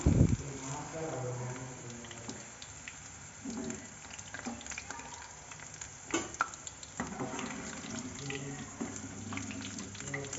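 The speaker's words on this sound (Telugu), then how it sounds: "సో ఇవి బాగా డీప్ ఫ్రై అయ్యాయి మనము తీసేసుకుందాము" Baby corn pieces deep frying in hot oil in a home kitchen, a steady low sizzle and bubbling with occasional stirring and scraping clinks, heard close alongside faint background noise.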